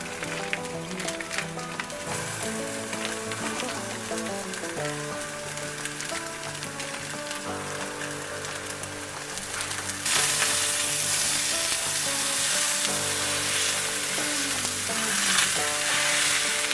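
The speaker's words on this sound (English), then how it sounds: "we're gonna get this sausage cooking" Pork sausage sizzles and crackles steadily in a lightly greased cast iron skillet over high heat, a loud, dense, continuous frying hiss that grows brighter partway through, with no talking.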